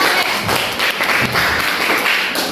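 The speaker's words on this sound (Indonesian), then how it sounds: "Tepuk tangan untuk" Students in a classroom at MTsN 7 Solok, Sumatra, give a short burst of clapping, a ragged patter of hand claps lasting a couple of seconds with no talking over it.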